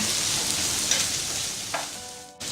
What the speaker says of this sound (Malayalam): കശുവണ്ടി, വെളുത്തുള്ളി, ഇഞ്ചി, പച്ചമുളക് ഇട്ട് വഴറ്റുക